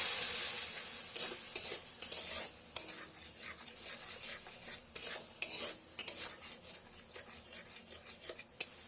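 Tomato frying in masala for bhendi (okra) masala, stirred in the pan: a steady close sizzle with repeated scraping stir strokes and soft utensil clicks, no talk.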